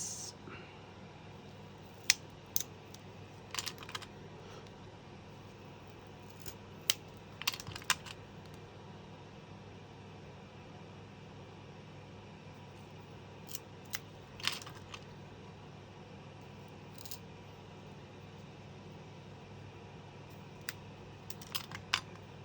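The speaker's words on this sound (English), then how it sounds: "So let's do that side first with some snips." Metal snips cutting off the ends of wooden pieces for a model water tower, giving sharp, scattered clicks and snaps spread across a quiet workbench background.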